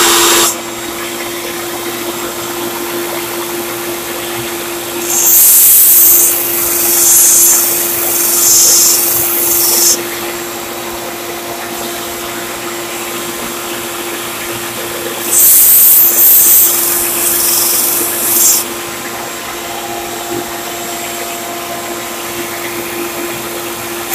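A 1x30 belt grinder hums steadily, with two loud bursts of harsh hissing grinding as a thick steel cleaver blade is pressed against the belt for sharpening, separated by quieter running.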